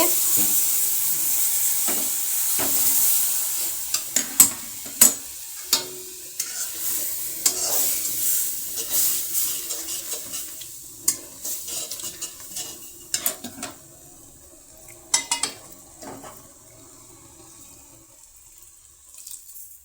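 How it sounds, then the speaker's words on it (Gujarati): Creamy full-fat milk is poured into a pan of carrot kheer on a gas stove and stirred, giving soft sizzling and liquid swishing with repeated clinks and scrapes of a spoon against the pan, close by and fading toward the end. "મેં તેમાં 1/2 લીટર જેટલું દૂધ નાખ્યું છે।"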